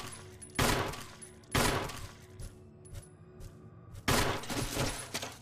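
Gunshots in the video game Resident Evil HD Remaster: three loud separate blasts spaced a second or more apart, with quieter game sounds and faint clicks between them.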